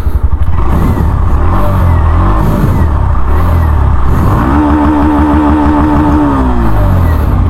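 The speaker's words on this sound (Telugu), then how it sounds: "ఒకసారి ఎగ్జాస్ట్ సౌండ్ అయితే వినండి" Glamour X 125 motorcycle exhaust, loud and close, with a steady idle burble that rises into a revving climb and then holds a higher, even engine note.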